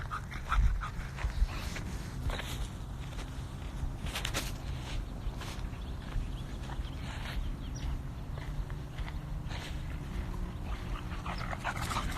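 A big dog pants steadily nearby while moving around, with paws shuffling and faint footsteps under a low, continuous background rumble.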